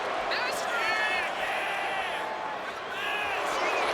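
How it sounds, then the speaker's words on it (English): A wrestling arena crowd in WWE 2K25 gives a sustained roar with scattered whoops and cheers, steady and loud throughout, with a brief lull near the end and commentary over it. "Steiner drawing a big reaction from the crowd."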